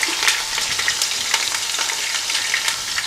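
Steady, close sizzling and crackling of a large chopped onion frying in hot oil for keema, with small pops scattered throughout.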